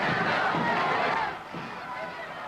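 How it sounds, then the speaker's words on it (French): A large crowd massed along a parade route as a procession heads toward the Gare du Nord, heard as a dense, steady murmur of many voices that eases slightly partway through. "Une grande foule s'est massée tout au long du parcours que suit le défilé."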